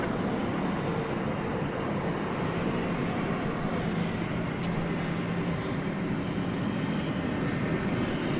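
A cargo airplane at DFW Airport gives a steady, broad roar that holds at an even loudness throughout, with no talk over it.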